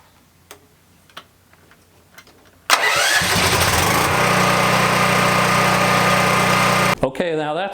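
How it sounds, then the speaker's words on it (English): A propane-powered backup generator with electric start clicks a few times, then cranks and roars to life, running loud and steady for several seconds before cutting off, with a voice starting right at the end. "here's one of the generators you got, and it's powered by propane, and it has an electric start"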